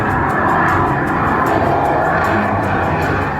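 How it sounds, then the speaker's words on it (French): Rafale fighter jet roaring overhead, a loud continuous broadband engine rumble filling the whole stretch without a break. "Exercice terminé, le Rafale retourne à sa permanence."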